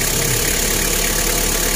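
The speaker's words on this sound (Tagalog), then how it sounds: "I-rev mo lang po siya ng ganito." A car engine with Aero Magic Guard additive just poured in runs steadily and loudly up close, a constant broadband engine roar with no clear rev swells and no talking.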